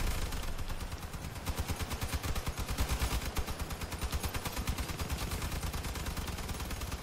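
Rapid automatic gunfire in the vehicle combat video game Crossout, a steady, dense stream of shots that runs without a break, with no voices over it.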